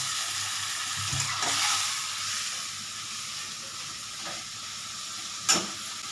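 Medium-sized prawns fry with mustard and poppy seed paste, a steady close hiss and sizzle with a few light clinks of stirring and no talking.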